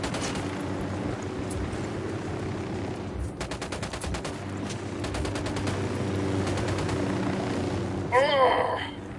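Gunfire bursts and rapid machine-gun fire crackle in a battle in Ghost Recon Wildlands, over a steady low helicopter rotor drone, with a louder burst near the end.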